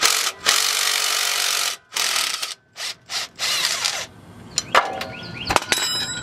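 Ratcheting wrench work loosening the AC belt tensioner bolt on a 2007 Chevy Tahoe, with several loud bursts of dense clicking separated by short gaps, then lighter scattered taps and metallic clinks near the end.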